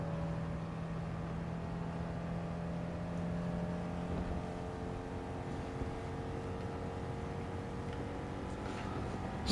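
A Honda S800 racing in Gran Turismo 7, with a steady, buzzing game engine drone that holds a fairly even pitch throughout and sits at moderate loudness without speech.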